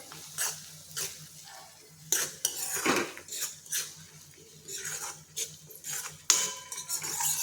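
A metal spoon scrapes and clinks against a pan while garlic chutney is mixed into dum aloo gravy, irregular close clattering strokes with a faint sizzle underneath and no talking.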